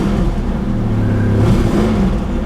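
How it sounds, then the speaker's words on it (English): A Datsun 300ZX Turbo engine with a blown turbo runs loud and close, a steady, rough mechanical roar that swells slightly midway without any clear separate revs. "the turbo's definitely blown"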